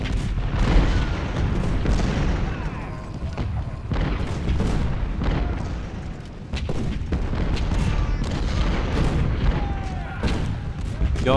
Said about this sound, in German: Ja, das ist entspannendes Kanonenschießen